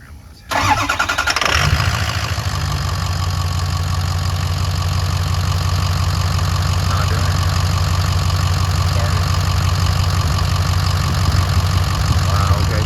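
A Ford 6.0 Powerstroke diesel truck cranks and fires up with its MAP sensor unplugged, then settles into a loud, steady, close idle that runs on without stopping.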